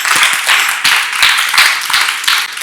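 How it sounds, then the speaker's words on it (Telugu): Hands clap in praise during a worship gathering, a run of rhythmic, fairly loud claps in a steady beat, close and bright with no talk. "చప్పట్లు కొడతా"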